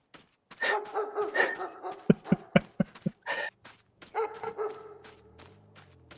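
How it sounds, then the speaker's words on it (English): A dog barks in Farming Simulator 25, a quick series of sharp, fairly close barks in a tight rhythmic burst, followed by softer yips and whines with a low ambient hum. "I love how there's dog barking sounds all the way over here"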